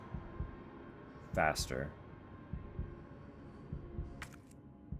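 Heartbeat in the video game Resident Evil, a steady low thumping pulse repeating through the background, with a voice talking briefly over it.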